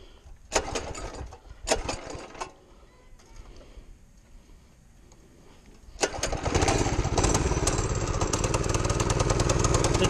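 A small motorbike engine with the choke on sputters in a few short bursts and cuts out, then starts and runs at a steady loud idle close by, with faint talk in the background.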